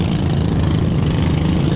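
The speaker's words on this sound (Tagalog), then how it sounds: "Makina 18 kabalyos." An 18-horsepower fishing boat engine runs steadily at sea, a loud continuous low mechanical drone with an even idling rhythm throughout, heard alone without speech.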